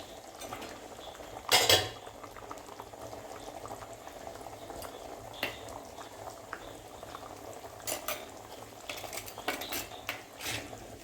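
Fish curry bubbles at a rolling boil in a pot on the stove, a soft continuous simmer broken by a sharp metallic clatter of a utensil against the pot and a few later scrapes and taps as it is stirred.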